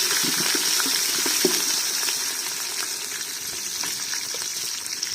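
Onions frying in a pan for quail biryani, a continuous close sizzle with scattered crackles and light stirring clicks throughout.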